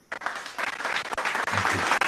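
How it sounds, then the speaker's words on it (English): Dense audience applause at a school investiture ceremony, a continuous burst of many hands clapping, fairly close and full, with no talk over it. "A huge round of applause for Major General Vikram Dev Dogra."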